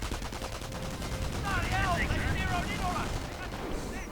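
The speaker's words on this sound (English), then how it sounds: "Mortar opening up, and in fact mortar is pretty exposed at the moment." Mortar blasts and rattling gunfire from a WWII strategy video game fill the mix continuously, dense booming and crackling battle noise with a voice talking over it.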